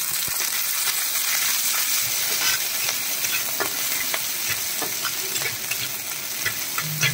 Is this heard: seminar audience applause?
no